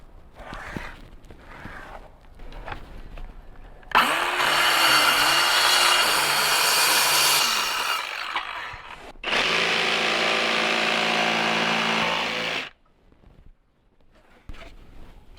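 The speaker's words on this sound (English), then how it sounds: "I'm going to cut a small piece of board" A power saw cuts a small piece of wooden board for a dividing wall in a DIY Sprinter van build, two loud sustained bursts of whining, rasping cutting separated by a brief pause, with quiet handling noises before and after.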